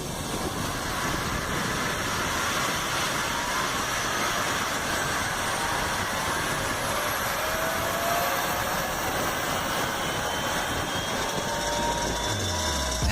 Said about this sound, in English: This is how you start a Boeing 737 engine manually.